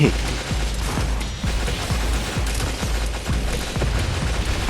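Rapid, rhythmic machine gun fire from the video game Metal Slug: Awakening, with steady repeated shots running under a voice talking.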